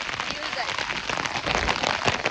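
Heavy monsoon rain pours down steadily during an outing to Hesaraghatta lake. It makes a dense, continuous patter close by, with people talking over it.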